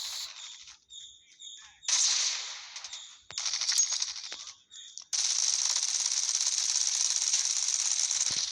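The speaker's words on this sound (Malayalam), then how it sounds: "ഇത് റീലോഡ് ചെയ്യാൻ ഭയങ്കര ടൈമാണ് കേട്ടോ" Call of Duty gun reloading and handling: a run of sharp metallic clicks and rattles, then a sustained bright mechanical burst, close and loud in game audio.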